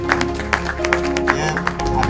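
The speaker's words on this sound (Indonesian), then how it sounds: "habis pantun ini pasti tepuk tangan" At a Kampung KB launch event in Lingga, an audience applauds after a pantun verse, with steady, dense clapping and some crowd murmur filling the whole stretch.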